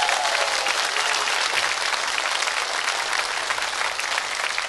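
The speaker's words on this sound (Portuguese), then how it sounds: "Então, uma salva de palmas para vocês." Audience applause at a live sertaneja music show, a loud dense wash of clapping that runs steadily throughout, close and unbroken.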